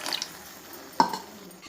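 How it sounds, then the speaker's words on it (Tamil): Water goes into a pan of potato poori masala with a soft trickle, then a single brief splash, close and quiet, with no talking. "கூடவே கொஞ்சமாக உங்களுக்கு எவ்வளோ கன்சிஸ்டன்சி தேவையோ அந்த அளவுக்கு தண்ணி சேர்த்துக்கோங்க."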